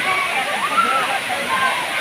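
Rushing water at Pia-aw Falls in Nueva Era, a steady broadband wash of falling water that stays close and even throughout, with people talking over it.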